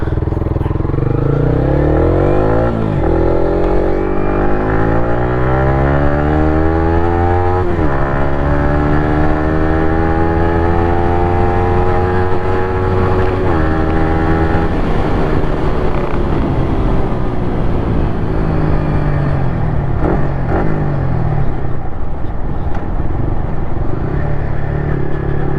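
A Yamaha MT-15 fitted with an Akrapovic R1M exhaust runs steadily through a ride, its engine note rising and falling through gear changes. The sound is loud and continuous, with no voices over it.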